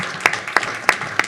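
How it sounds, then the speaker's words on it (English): A slow, sparse round of applause at a village board meeting: four separate, evenly spaced claps, close and fairly loud. "Give you a round of applause."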